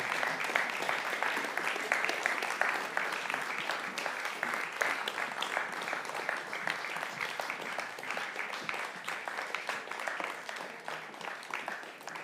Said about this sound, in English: they definitely deserve a round of applause